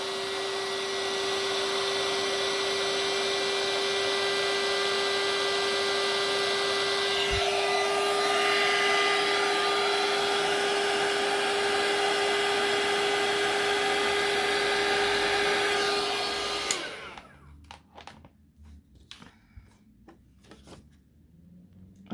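A heat gun blows over blue embossing powder mixed with glitter, a steady loud whirring hiss with a high whine that runs for about sixteen seconds, then cuts off, leaving faint clicks and handling noises.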